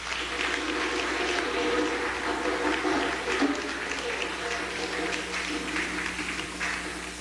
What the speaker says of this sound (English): Let's give Brother Automatics a round of applause